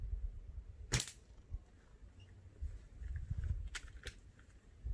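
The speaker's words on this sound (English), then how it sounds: "sound test for the sniper mechanic suppressor baffle" Suppressed shots from a Silverback SRS A1 airsoft sniper rifle fitted with a modified suppressor baffle, fired about 2 meters away: a sharp crack early, then two more snapping shots later over low background rumble.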